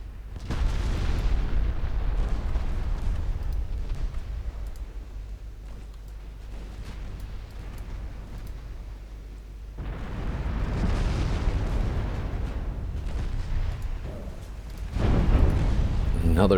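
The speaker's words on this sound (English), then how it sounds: "Another torpedo hit." Torpedo hits striking a warship in a WWI-era naval battle game, heard as deep, rumbling explosive booms: one heavy blast near the start, another swelling around the middle, and a sharp third impact at the end, under a low background roar.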